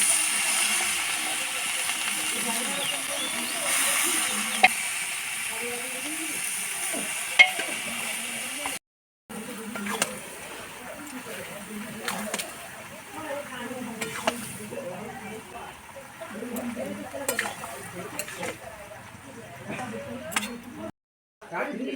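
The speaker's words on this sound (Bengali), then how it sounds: "এবার আমি সিদ্ধ করা বাঁধাকপিটা এর মধ্যে দিয়ে দেবো এটাকে আমি হাতা দিয়ে অল্প অল্প করে তুলে তুলে দিচ্ছি" Boiled cabbage ladled bit by bit into a fish-head masala in a pan over a wood fire, giving a steady close sizzle with scraping stirs and small clinks of the ladle, broken by two brief silences.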